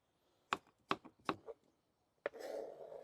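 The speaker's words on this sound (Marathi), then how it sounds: "टमाटर कट करून घेऊ।" A kitchen knife chopping tomatoes on a board, four crisp, quiet chops in quick succession, then after a pause one more strike followed by a soft scraping rustle.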